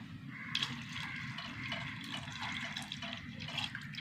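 Half a litre of unboiled milk is poured into a pan of cooking vermicelli, giving a faint, steady trickling and splashing that runs without a break.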